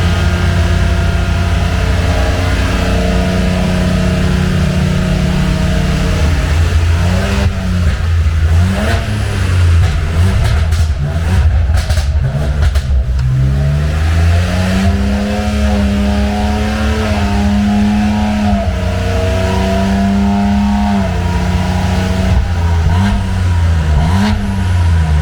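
BMW M4 GT4 G82 race car of Rosel Racing revving its engine in the paddock as it sets off: loud, close, continuous mid-pitched engine drone rising and falling with several throttle blips.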